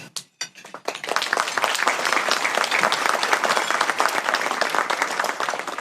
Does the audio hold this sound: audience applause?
yes